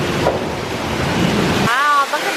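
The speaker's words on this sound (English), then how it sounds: "Wow, look at the waterfall." Waterfall beside an amusement park train ride at Knott's Berry Farm, heard from the front car as a loud, steady broadband rush of falling water that cuts off abruptly, followed by a brief voice.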